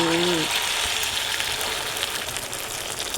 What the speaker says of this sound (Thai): แล้วก็คนให้เข้ากันแล้วเราก็นำไปทอดเลยค่ะ